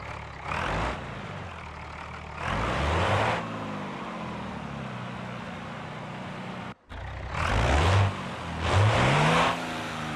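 In the video game BeamNG.drive, a car engine with a changed exhaust revs in repeated loud bursts, rising and falling with a throaty exhaust note, separated by quieter idling stretches and a brief cut.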